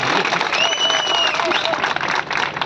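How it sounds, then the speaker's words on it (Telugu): Loud, dense applause from a crowd at an Ambedkar Jayanti celebration in Mandamarri fills the whole stretch, with a few whistles rising above the steady clapping. "మంచి గట్టి చప్పట్లు కూడా ఇప్పుడు"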